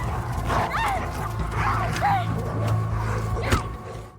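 Several dogs in a film scene, one of them biting, give short yips, whimpers and barks at intervals while someone narrates over them, with a louder bark near the end.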